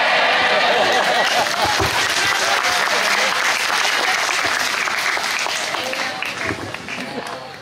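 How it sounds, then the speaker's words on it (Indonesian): A large church conference audience applauds for a speaker, a loud, dense clatter of many hands that holds strong before gradually thinning and fading toward the end. "tepukan untuk kamu lebih tinggi,"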